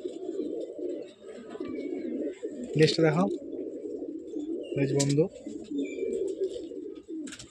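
Breeding pigeons, including an adult male, coo at a loft in two short throaty bursts close by, heard under ongoing conversation.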